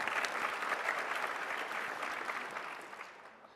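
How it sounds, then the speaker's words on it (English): An audience claps steadily for about three and a half seconds, a dense, even patter of many hands that slowly thins and fades toward the end, with no talk over it. "Clap it up for him."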